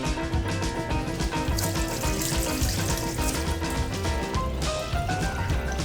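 Cold water runs steadily from a tap and splashes over basil for several seconds, with a musical background underneath.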